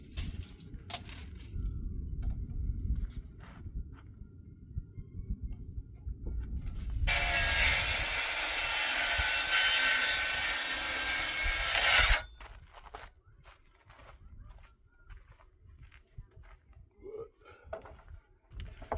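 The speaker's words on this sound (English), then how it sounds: "I'm going to cut them down to length for size what I want" Hand sawing of wood boards cut to length for an off-grid greenhouse build: a steady, continuous rasping stroke sound lasting about five seconds in the middle, with quieter handling noise before and after.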